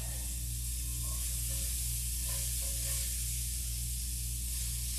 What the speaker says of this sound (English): using the same pan, we're going to take our onions and saute them.